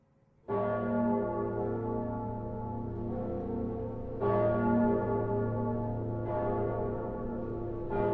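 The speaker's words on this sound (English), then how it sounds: "So the bell tolls" A church bell tolls slowly in the Dark Souls 3 video game, three deep resonant strikes with long ringing decays that overlap, loud and alone with no voices.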